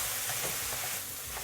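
Hong Kong style soy sauce chow mein noodles being stirred and tossed in a wok, a continuous close sizzle with soft scraping under it and no talking.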